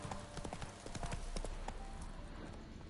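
Hooves of the horse Roach clip-clopping in a rapid galloping rhythm in The Witcher 3: Wild Hunt on PS5, steady and moderately close over soft game ambience.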